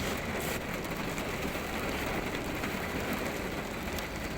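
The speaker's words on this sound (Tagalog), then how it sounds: "Yung tipong bigla lang umulan oh," A sudden heavy downpour hisses steadily over the surroundings, a dense broadband wash of rain that stays loud and even throughout with no pauses.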